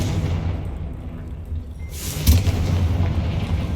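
Confringo fire spell exploding inside a tomb in the video game Hogwarts Legacy: one deep boom about midway, with a brief hiss and rumble trailing after it.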